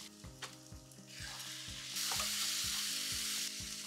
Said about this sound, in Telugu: కొద్దిగా ఫ్రై అయ్యాక టమాటోస్ వేసుకుందాం.